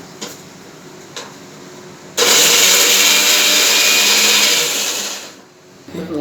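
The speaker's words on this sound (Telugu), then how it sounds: "ఇప్పుడు మిక్సీ మళ్ళీ చేస్తున్నాను" Mixer grinder blending ridge gourd chutney with roasted chillies, running as a loud, steady whirring roar for about three seconds before winding down, with faint handling knocks before and after.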